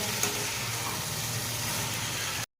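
Okra stir-frying with spices in hot oil gives a steady, broad sizzle that runs unbroken at moderate loudness, with faint low rumble underneath and no voices.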